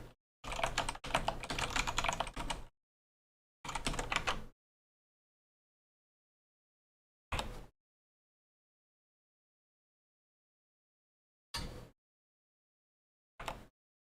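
Keys clatter on a computer keyboard as an install command is typed, first in a long rapid burst, then a shorter run and a few isolated keystrokes separated by silence, close and clear with no talking.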